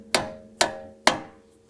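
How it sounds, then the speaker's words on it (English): A hammer taps a nut threaded to the end of a front control arm bolt on a 2017-2024 Audi B9 A4: three sharp, ringing metallic strikes, evenly spaced and close. "I've just run it all the way down to the end of the bolt and give it a couple taps"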